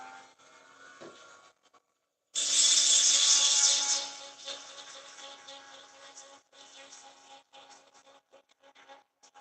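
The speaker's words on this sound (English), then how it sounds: "It's a hacksaw." A hacksaw cuts through material at a model train layout workbench, a short burst of loud rasping strokes followed by quieter scraping and handling sounds.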